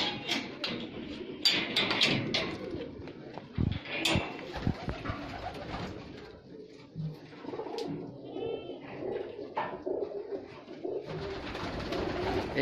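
Pigeons, fancy breeds kept on a farm that also raises goats, coo and flutter in a loft, with soft layered calls from several birds close by, scattered wing-flaps and brief human talk among them.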